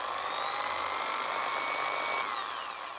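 A Black and Decker hammer drill runs in normal drill mode with a steady, high motor whine that holds evenly, dips briefly in pitch, then eases slightly toward the end; close and alone, with no talking.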